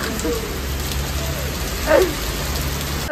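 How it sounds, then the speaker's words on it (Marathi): Heavy rain pours down in a dense, steady hiss of drops striking surfaces, loud and close throughout, with a brief faint voice-like sound rising once in the middle. "आम्ही आज निघालो होतो घरी, पण कसं डेंजर पाऊस चालू झालाय बघा"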